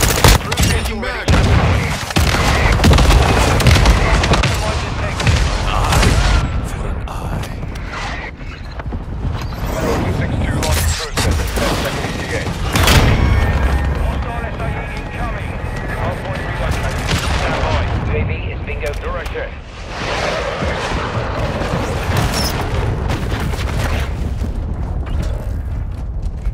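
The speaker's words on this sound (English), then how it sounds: "Hostile mortar strike incoming!" Mortar strike explosions in the video game Call of Duty: Modern Warfare II boom and crack amid dense, continuous gunfire and mechanical clatter, loud and chaotic throughout, with game voice callouts mixed in.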